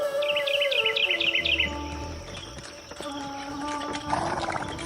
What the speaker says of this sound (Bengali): কত পাখিদের সুমধুর ডাক কানে ভেসে আসছে।